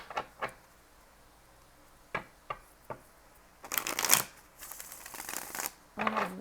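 A tarot deck is shuffled by hand close up, with a few sharp taps and clicks of cards first, then a fast riffling flutter and a final tap.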